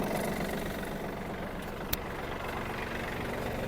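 A Yanmar F-200 mini tractor runs with its PTO shaft engaged, making a steady, even mechanical hum with a constant low engine drone, close and moderately quiet, marked by one brief click partway through.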